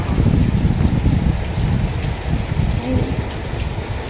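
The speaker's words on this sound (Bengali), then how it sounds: "এই গাছগুলোতে দেখুন জল পড়েছে টপ টপ করে।" Short rain shower over plants on a balcony: loud, steady patter of falling water with a thicker low rumble, drops continuing without letup and no clear speech.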